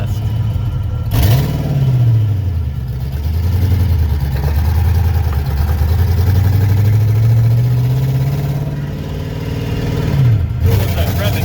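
A junkyard Ford Fox body car engine revs up and falls back several times, a loud, close, rough drone that rises and sags in pitch over an idle. The car is shaking, has a flat tire and is smoking. People talk faintly underneath.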